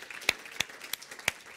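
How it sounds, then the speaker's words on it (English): Sparse applause from a small audience at a talk about apples and cider, just a few distinct, fairly quiet claps spaced irregularly rather than a full ovation. "So how about a round of applause for the vision?"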